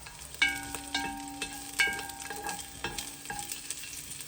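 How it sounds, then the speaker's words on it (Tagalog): Garlic sizzles in hot oil for fish sinigang, a steady frying crackle with a metal utensil scraping and tapping the pan several times, close and distinct. "At ngayon po ay nagpapainit tayo ng mantika at magigisa tayo. Ayan mga boss, uunahin natin ang bawang"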